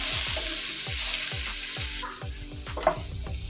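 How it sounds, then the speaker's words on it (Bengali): Medium-sized potato pieces with salt and turmeric frying in mustard oil: a loud, dense sizzle with regular rhythmic stirring knocks that fades into quieter frying, with one sharper scrape near the end. "দিয়ে আলুগুলোকে ফ্রাই করে নেব"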